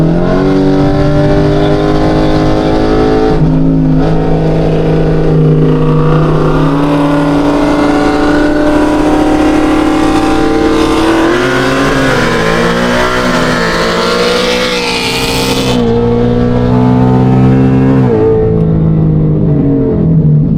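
A Dodge Hellcat and a Ford S650 Mustang GT race, their engines roaring loud and steady throughout with a high, sustained drone. The pitch climbs and shifts through gear changes, and no voices are heard.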